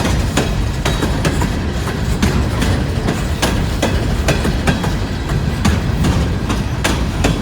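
A long coal train rolls steadily past, its wheels clicking in a regular rhythm over rail joints beneath a continuous loud rumble that holds through the whole stretch.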